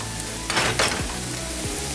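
Rice cake fries in a hot pan with a steady close sizzle, broken by two quick bursts of louder hissing and a spatula scrape as green onions and cracked eggs hit the oil.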